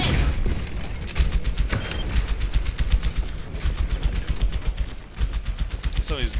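Rapid gunfire in Overwatch from the character Ashe and her summoned robot Bob: dense, evenly spaced bursts of shots and thuds fired close by, rattling continuously with a few heavier booms mixed in.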